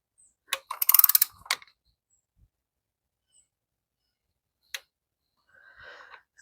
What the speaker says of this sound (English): my torque wrench set to 16. And we'll tighten them down to 16.